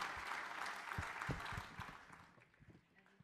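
Audience applause at the close of a panel discussion at the Transition Monaco cleantech forum, a dense crowd of clapping that begins full and gradually thins and fades over a few seconds.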